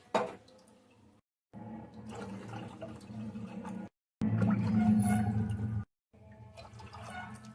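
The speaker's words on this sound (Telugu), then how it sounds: "సేమ్ కప్ తోటి 5 cups వరకు వాటర్ యాడ్ చేసుకోండి" Water is poured into a pot while cooking Navarathri prasadam, heard as splashing, gurgling bursts separated by short silent gaps between cups, close and moderately loud.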